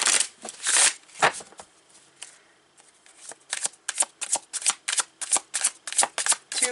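Tarot cards are shuffled by hand in repeated crisp riffling bursts, irregular at first, then settling into a quick even rhythm of close, bright flutters.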